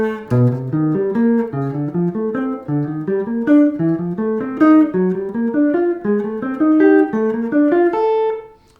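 Four-note chords, each preceded by a half step below its first note, played ascending through a major scale on a keyboard instrument, a clear, rhythmic run of chord clusters that climbs and ends on a sustained chord.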